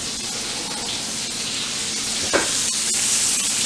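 Ribeye steaks with onions and mushrooms sizzle in a pan, a constant close frying hiss with a quick scrape or clatter partway through.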